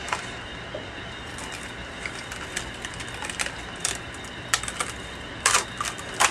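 A Cricut cutting machine works through paper, giving a steady mechanical whir with scattered light clicks and taps that grow brief and sharper near the end, fairly quiet and without voices.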